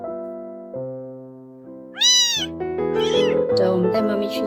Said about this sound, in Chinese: 小猫咪，这是我们的特定小猫咪。